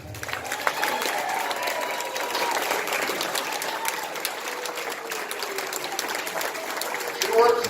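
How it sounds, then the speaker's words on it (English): Amateur variety-show audience at Meridian Manor applauding performer Cindy Winders, a steady wash of clapping from a room of people that holds throughout and swells slightly near the end, with voices murmuring underneath. "she needs a round of applause, maybe even a standing ovation"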